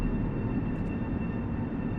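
Long Island Rail Road train rumbling steadily in Train Sim World, a continuous low drone with a faint high squeal briefly cutting in.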